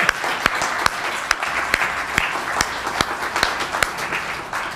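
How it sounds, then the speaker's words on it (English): An audience applauding congressional candidates at a district forum, a crowd's dense continuous clapping with sharp individual claps standing out at an even rhythm, sustained and loud indoors. "can we clap for all of them"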